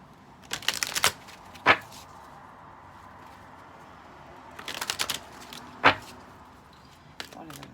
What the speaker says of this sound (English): let's pull some cards for you guys